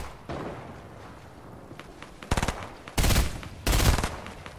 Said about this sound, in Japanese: 撃たれてる。